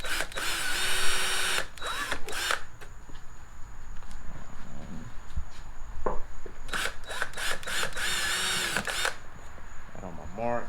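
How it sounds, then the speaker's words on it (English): A power drill bores a pilot hole in the body of a 2017 Camaro SS 1LE while fitting a wicker bill, in several loud high-pitched whirring bursts of one to two seconds each, with a person talking between them. "I'm gonna start my pilot hole."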